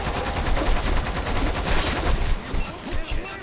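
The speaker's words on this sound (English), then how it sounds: "Stop shooting me!" Rapid, dense bursts of gunfire fill a firefight in the video game Lost Planet 2. The shots crackle loudly and continuously throughout, with the firing thinning slightly toward the end.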